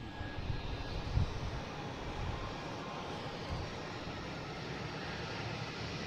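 Air Canada airliner departing for Toronto, a moderate, even jet roar heard from some distance, one soft bump early on, otherwise unbroken and free of speech.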